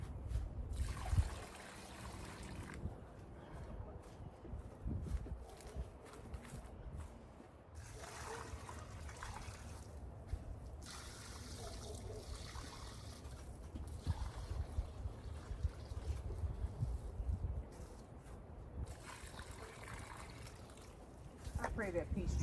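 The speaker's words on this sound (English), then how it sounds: "Might as well water the rest of them" Water trickles and splashes onto soil while newly planted bare-root fruit trees, an Orient pear and a Methley plum, are watered, a faint steady outdoor flow with a few louder pours and brief pauses.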